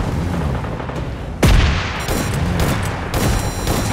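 Heavy gunfire and booming blasts from a PUBG Mobile team deathmatch, a dense, loud barrage with sharp impacts punching through continuous battle noise.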